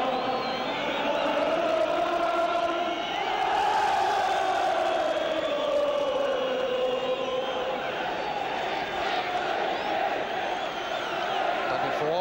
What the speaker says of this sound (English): The Norwich crowd giving us another version of On the Ball City.